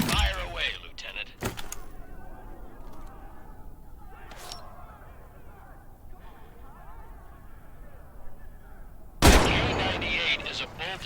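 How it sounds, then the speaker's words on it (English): Karabiner 98K bolt-action rifle shots in the Medal of Honor VR game: a few sharp, loud cracks spread apart, with quieter mechanical clicks and rattles and a low background hum between them. "K98 is a bolt-action rifle, so you reload by pulling and pushing the bolt after each shot"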